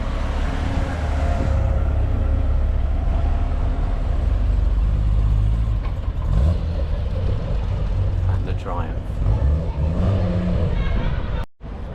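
A classic Porsche pulls in at a classic car gathering in Melton Mowbray town centre, its engine rumbling steadily and close, with someone talking over it and street noise around.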